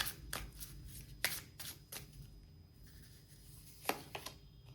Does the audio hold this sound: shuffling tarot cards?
yes